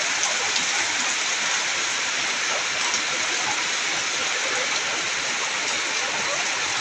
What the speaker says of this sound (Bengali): ঢেলে দিচ্ছে একবারে বৃষ্টি